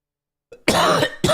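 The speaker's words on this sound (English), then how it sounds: "Do not mean to cough in you guys' ear" One person coughs close to the microphone: a small throat catch, then a harsh drawn-out cough and the start of another, with no speech.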